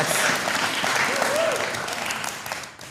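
A live stream audience claps and cheers continuously in a crowded room, a dense steady wash of applause with voices mixed in, tapering slightly at the end.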